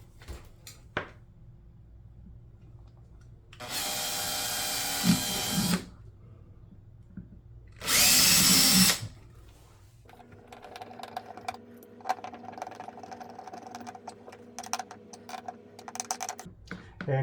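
Two bursts of a power drill driving screws while a trolling motor is mounted on a Brooklyn PK13 kayak, each lasting about two seconds, followed by quieter clicking and handling noises.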